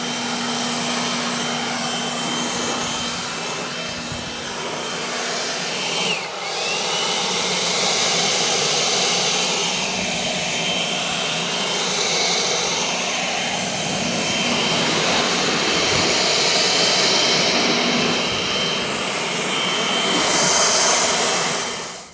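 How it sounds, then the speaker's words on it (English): A handheld air blower roars continuously while drying a freshly washed VW Lupo GTI, a loud steady rushing whoosh that swells slightly as it moves over the car, with no talking. "So I'm just going to blow dry now"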